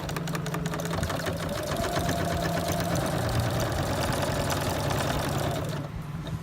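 Sewing machine stitching a small bag made from fabric scraps, a fast steady motor whir with rapid needle pulses running continuously, then easing off at the end, with no talk.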